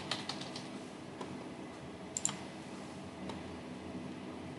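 Quiet keystrokes on a computer keyboard, a few scattered taps with a brief quick burst in the middle, soft and close over faint room hiss.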